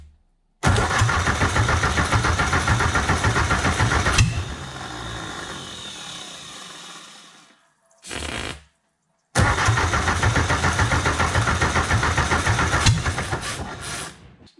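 Ford industrial engine on a test run at wide open throttle, a loud, steady, raw roar that suddenly drops off and fades, then a brief burst and a restart back to the same full-throttle drone.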